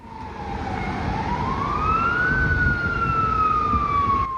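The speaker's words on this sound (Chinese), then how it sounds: "消防车呼呼叫" A fire truck siren wails loudly and close by at a high-rise fire in Kaohsiung, its pitch sliding slowly down, then up, then gently down again over steady road rumble.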